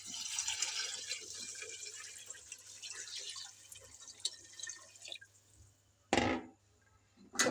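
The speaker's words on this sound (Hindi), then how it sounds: "और अब हम इसमें पानी शामिल कर देंगे। पानी मैं 2 लीटर इसमें शामिल करूँगी" Water is poured into a pot of mutton paya, about two litres going in as a dripping, trickling stream that thins out and stops, followed by a short louder splash near the end.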